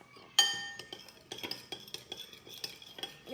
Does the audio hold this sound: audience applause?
no